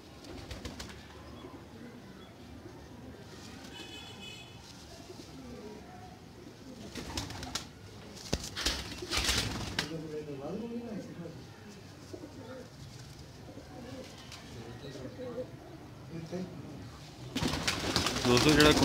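A Kasuri pigeon coos with low, soft rolling calls, close by, amid other birds and faint background noise, with a voice talking at times.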